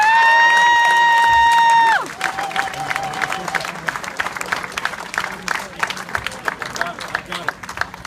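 A crowd at an outdoor Labour Day picnic breaks into sustained applause and cheering welcoming politician John Horgan, dense clapping rising after a brief tonal sound and continuing steadily to the end.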